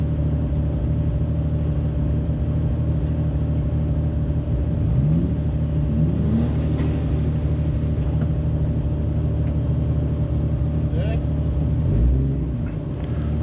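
A Jeep JKU on 37-inch tires crawling off-road, its engine giving a steady, close, low rumble throughout, with a few brief rises in revs and faint voices in the background.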